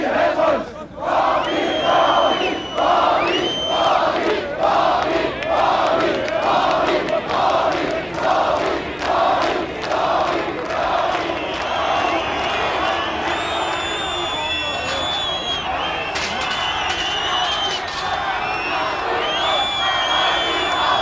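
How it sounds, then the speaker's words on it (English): Hostile crowd gathered outside in East Germany during the Cold War, chanting in loud rhythmic bursts of shouting and whistling that repeat steadily, with massed voices throughout. "Meanwhile, a hostile crowd was gathering outside."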